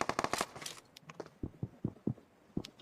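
A grenade goes off in PUBG Mobile, heard as a burst of sharp cracks and thuds at the start followed by scattered lighter impacts, fairly close, with no voices.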